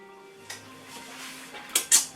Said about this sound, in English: Scrape that extra little bit off.